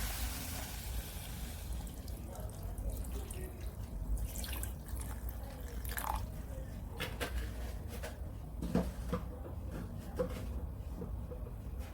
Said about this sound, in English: I'll add my water to the pot